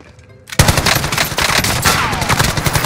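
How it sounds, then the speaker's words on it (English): Rapid automatic gunfire in Call of Duty Warzone bursts in loudly after half a second of quiet, a dense rattling stream of close shots that continues to the end. "Oh, you're getting shot at."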